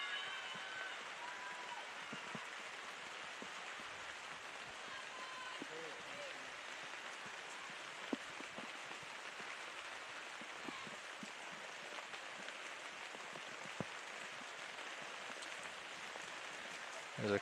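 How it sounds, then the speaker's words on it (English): Heavy rain pours steadily over an outdoor women's college soccer field, a dense continuous hiss with occasional faint thumps, under a broadcast commentator's voice. "There's a close look at the rain. It's really picked up here."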